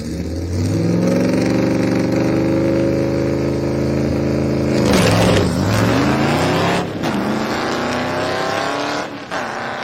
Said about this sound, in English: That's Brian Bunker's 55 Chevy